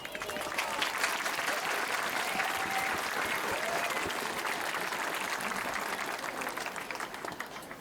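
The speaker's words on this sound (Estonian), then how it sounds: "Avame tänase kontserti suure aplausiga." A large crowd at a school spring concert applauds steadily and warmly, a dense wash of clapping that holds for several seconds before easing slightly.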